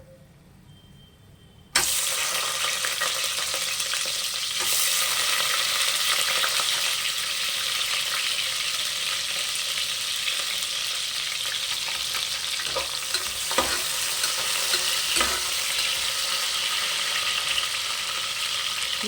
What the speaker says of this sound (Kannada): ಸ್ಪೈಸಸ್ ಎಲ್ಲ ಎಣ್ಣೆಲಿ ನೀಟಾಗಿ ಫ್ರೈ ಆಗ್ತಿದೆ